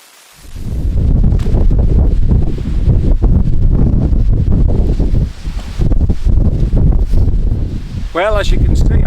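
Strong wind buffeting the microphone on an exposed moor while a tent is being pitched, loud continuous gusting roar after a quiet start, with a brief whistling tone near the end.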